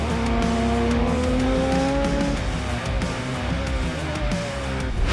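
Radical Cup Challenge race cars scream past on a track at a Spring Mountain club race, engines loud and sustained with rising and falling pitch as cars pass and shift gears, with tires squealing.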